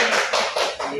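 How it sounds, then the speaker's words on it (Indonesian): Brief applause for two presenters at an indoor meeting, with a few rhythmic, close claps and no talking. "Tepuk tangan untuk berdua."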